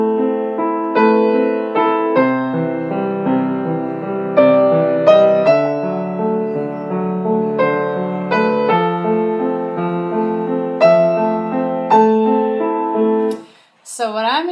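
House of the Rising Sun chords picked in a steady right-hand arpeggio on guitar, clear and close with ringing notes, followed by a brief voice at the very end.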